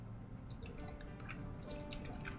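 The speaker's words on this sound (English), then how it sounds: "There we go. Water flows." Water flows through a newly finished pipe in the video game Captain of Industry, a faint, steady wash with scattered small drip-like plinks on top.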